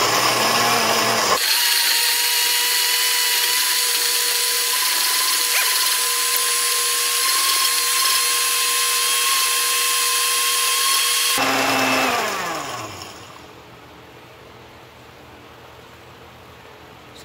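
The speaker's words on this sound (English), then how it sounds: "So far this blender has worked great for me for the better part of a year." A blender grinds ashed plastic IC chips into powder, a loud steady motor whine running for about ten seconds before spinning down and falling away to quiet.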